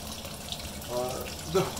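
Wort recirculates through a Brewtools B40/B80pro homebrew system, a steady close-up rush of flowing liquid with a brief louder gush near the end.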